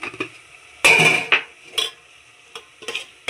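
A spoon scrapes and clanks against a pan while fish curry is mixed with turmeric, chili and salt, giving a few sharp metallic knocks and stirring scrapes in short bursts, close and fairly loud, with no talking.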